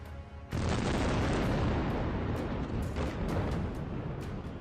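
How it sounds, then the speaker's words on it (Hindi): A sudden heavy blast erupts as a controlled explosion demolishes a water tower, then a long rumbling roar of debris and echoes that continues without letting up. "एक जोरदार धमाके की गूंज दूर दूर तक सुनाई दी।"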